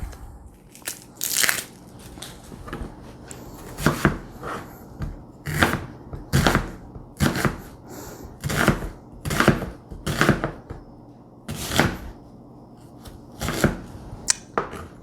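Knife chopping through peeled onions into large strips on a cutting board, a steady run of crisp, close thuds and crunches, each cut sharp and separate at an uneven rhythm, with no voices.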